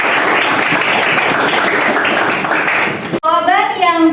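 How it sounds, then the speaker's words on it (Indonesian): A classroom of students applauds a classmate, a dense burst of clapping lasting about three seconds before cutting off abruptly, followed by a teacher's voice speaking. "Berikan aplaus buat April."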